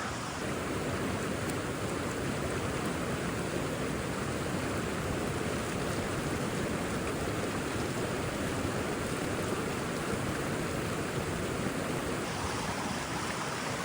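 Steady rushing water from a mountain stream in Alaska's Wrangell-St Elias backcountry, where clothes are being rinsed, a constant loud broadband flow with no talking.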